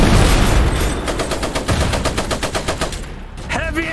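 Heavy machine gun fire in the video game Iron Harvest, a loud rapid stream of evenly spaced shots that rattles steadily for about three seconds before easing off, with battle noise continuing behind it.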